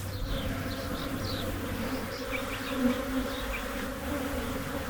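A colony of honey bees trapped inside a garage wall makes a steady, low, droning buzz, with occasional higher individual bees passing close by, and no voices.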